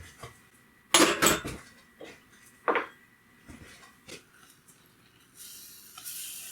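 A spoon clinks and scrapes against a pot while cream cheese and mustard are stirred into a mac and cheese sauce, irregular close knocks and scrapes separated by short pauses, with a soft hiss near the end.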